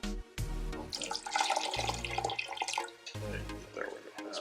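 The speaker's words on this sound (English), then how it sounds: "We're gonna add some more water in there" Water is poured into a hookah base, close splashing and gurgling of liquid with brief pauses and a few short interruptions, fairly quiet overall.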